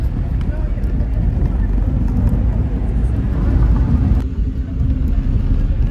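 A tempo goods vehicle carrying people to a village fair gives a loud, continuous low engine rumble and road noise while riding, with a brief dip near the end and voices talking over it.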